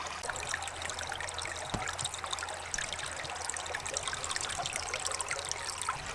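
Water trickling out of a drain after an inch of rain, a steady, close, gentle flow with faint splashes and no talking.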